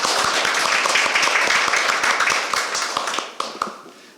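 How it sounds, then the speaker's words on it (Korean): An audience at a children's basic law public hearing breaks into dense, close hand clapping that holds steady and then tapers off into a few last claps. "큰 박수 부탁드립니다"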